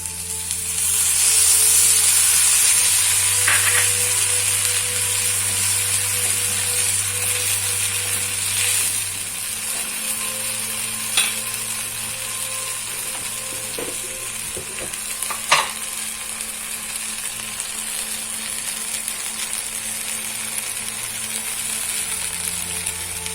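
Tamarind juice poured into Malabar spinach frying in a pan, giving a steady close sizzle with stirring scrapes and a few sharp clinks, with no voices.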